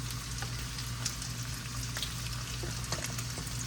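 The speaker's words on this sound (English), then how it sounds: "Fresh garlic in." Freshly sliced garlic fries in a pan, giving a steady, close sizzle with faint crackles throughout and no talking.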